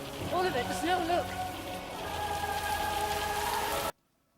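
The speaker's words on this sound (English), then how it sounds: "It's turning to rain. All of it, the snow," Rain falls steadily in a Doctor Who Christmas episode, a dense hiss under a brief voice and music early on, then continuous until it cuts off abruptly.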